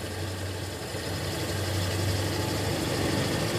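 A Toyota Kijang Krista engine idles steadily and evenly, a low continuous hum and rumble held at constant speed with no voices over it.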